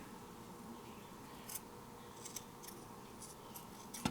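Scissors trim gold-flecked twine while making a shaped easel card, producing several faint, crisp snips spaced irregularly over a quiet background, with a sharper final cut at the end.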